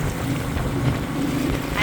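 A long-tail boat engine drones steadily on a river at Vang Vieng, Laos, with wind buffeting the microphone and a constant rumbling hum throughout.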